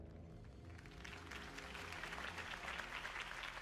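Crowd applause in a Batman Telltale video game scene, a sustained dense clapping and cheering that swells slightly and carries on steadily, fairly distant and muffled.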